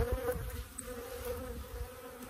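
Honeybees hum steadily around hive frames being trimmed for winter, a close, continuous buzzing drone at low-moderate volume with no talking.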